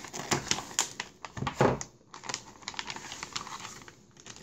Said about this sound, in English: looks like I'm gonna have to use some scissors for this then